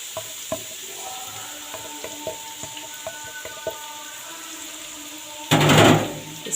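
Soft frying hiss with occasional taps and clinks, then a sudden loud burst of sizzling near the end as onion drops into hot oil.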